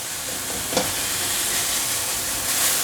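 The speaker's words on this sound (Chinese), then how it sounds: "放入金针菇炒香。" Enoki mushrooms stir-fry in a hot pan for a vegan tofu and mushroom dish, a steady close sizzle and hiss with one brief clatter of the spatula early on.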